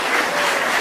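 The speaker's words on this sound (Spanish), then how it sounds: "¡Un aplauso!" Applause from an audience at a Catholic talk makes a brief, loud, dense burst of clapping lasting under a second.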